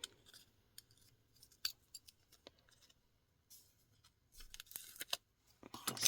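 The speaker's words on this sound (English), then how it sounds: "I'm going to use the scalpel and I'm going to cut the yarn." A scalpel blade slicing through yarn, heard as a few sharp, close snips and scratchy clicks separated by quiet pauses, with a denser burst of handling noise toward the end.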